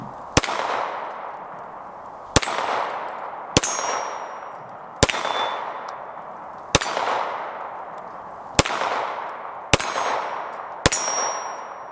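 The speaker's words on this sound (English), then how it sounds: "See if I can shoot something a little bit smaller." Eight sharp gunshots from a Nighthawk Custom Delegate 1911 9mm handgun fired at a target, loud and close, spaced at irregular intervals of one to two seconds, each followed by a short ringing decay.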